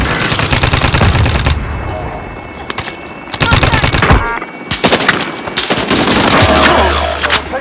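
Gunfire in a multiplayer shooter video game, dense automatic bursts and single shots crackling almost without pause, loud and close, mixed with players talking over voice chat.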